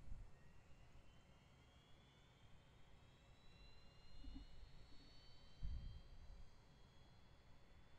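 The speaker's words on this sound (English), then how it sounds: "Let's go ahead and get the engine started here." Jet airliner engine number 2 spooling up during startup in the X-Plane flight simulator, a faint steady roar with a slowly rising whine and a couple of soft thumps, no talking.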